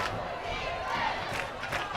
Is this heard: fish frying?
no